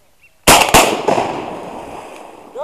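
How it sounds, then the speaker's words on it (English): Two sharp shotgun blasts ring out in quick succession during a duck hunt outdoors, each crack followed by a long rolling echo that fades slowly across the open marsh. "heard 2 shots there"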